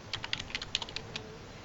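Fingers tap out a custom alias on a computer keyboard, a quick run of about a dozen light, close keystrokes in an uneven rhythm, then a pause.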